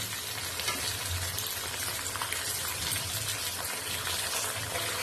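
Boal fish heads frying in hot oil in a pan make a steady, dense crackle that holds at an even level throughout, with no talking.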